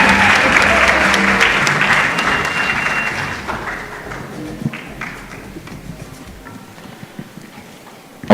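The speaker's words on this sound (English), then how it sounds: "Get that round of applause going one more time, ladies and gentlemen" A crowd at an awards ceremony applauds loudly and steadily, then the clapping slowly thins and fades to scattered claps.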